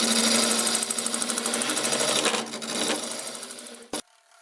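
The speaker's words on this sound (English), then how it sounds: "Just going to clean this up with the negative rake scraper." Negative rake scraper cutting olive wood spinning on a lathe, a steady loud whirring rasp with rhythmic pulsing that carries on for about four seconds, then a brief knock and the motor hum continuing alone.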